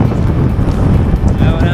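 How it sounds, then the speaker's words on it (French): Strong headwind roars steadily across the microphone during a long-distance road bicycle ride, a dense, loud buffeting rush with no breaks. "Gros vent de face, ça va être dur."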